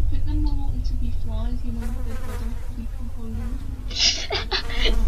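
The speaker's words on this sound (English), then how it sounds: "will these bees just shut up?" Insect buzzing from bees in the Roblox game The Asylum drones steadily throughout, with a person talking over it.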